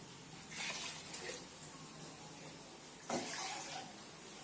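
Water being poured into a cooking pot for chicken biryani, a steady splashing pour with two stronger bursts of gushing, fairly close and unaccompanied by talk.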